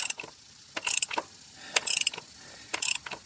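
A socket wrench ratchets while turning the oil filter cover on a 2010 third-generation Toyota Prius, giving four short bursts of rapid clicking with brief pauses between them, close and clear.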